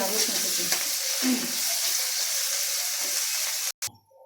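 Whole spices, bay leaf and chopped ginger frying in a pan, a continuous close sizzle with occasional stirring, cut off abruptly near the end.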